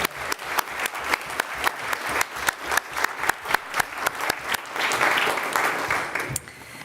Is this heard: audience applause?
yes